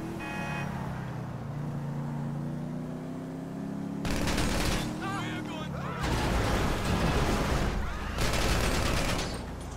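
Gunshots ring out in GTA V during a street robbery, coming as bursts of rapid, loud cracking fire that alternate with a car engine's drone and quieter gaps.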